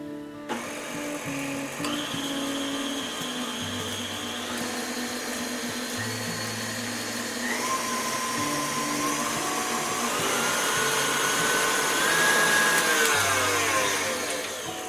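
Electric mixer whirring steadily as flour is beaten into lemon cookie dough, a loud continuous motor drone with shifting pitch and no voices.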